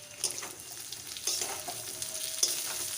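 Pointed gourd pieces sizzle quietly in hot oil, a soft, even frying hiss broken by a few light stirring clicks and scrapes.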